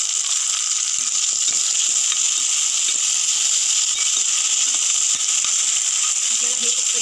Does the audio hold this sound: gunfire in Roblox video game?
no